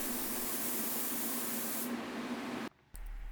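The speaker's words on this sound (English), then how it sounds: "new to me sprayer, it's a TC Cordless Ultra, and it's going to be set around probably 9 or 10 pressure setting" A Graco TC Cordless Ultra paint sprayer set to a high pressure spraying a vintage nightstand gives a steady, even hiss that stops abruptly near the end, followed by a brief click and quiet room noise.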